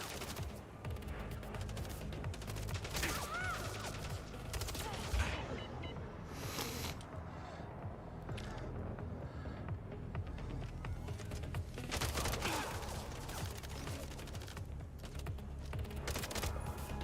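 Sustained gunfire from the video game Mindseye, with dense bursts of shots rattling steadily through the whole stretch at a loud, constant level and a faint voice underneath.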